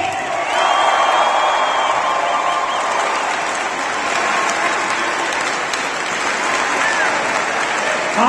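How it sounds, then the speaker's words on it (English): Big, steady crowd applause with cheering fills a college basketball selection show watch party as a player is introduced, loud and sustained for the whole stretch without a break. "Big round of applause for number 5, Eric Pick."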